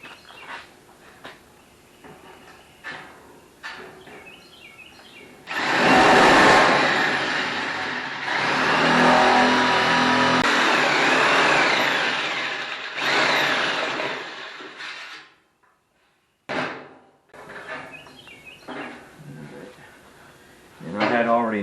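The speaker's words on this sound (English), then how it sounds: "I'm going to use my electric shears" Electric shears chew through the sheet metal of a car quarter panel in a loud, sustained buzzing cut lasting about ten seconds, followed by a brief final snip, with talking before and after.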